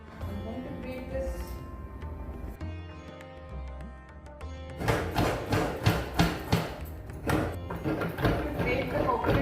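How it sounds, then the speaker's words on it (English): Fresh coconut is grated by hand for aviyal, heard as rhythmic scraping strokes that grow louder in the second half over a tonal background. "Grate the coconut at home."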